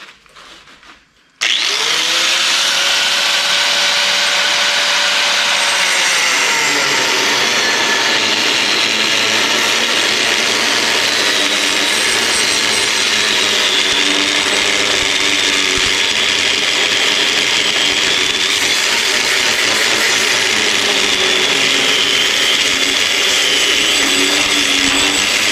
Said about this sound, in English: Then I take my whiz wheel and I'll cut that off right on the mark.